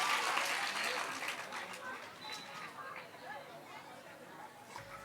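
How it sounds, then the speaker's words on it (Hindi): An audience at a religious discourse in Matihani, Nepal claps loudly at first, then the applause thins and fades under murmuring chatter and talk. "ताली बजाएं इसके लिए, बहुत अच्छा"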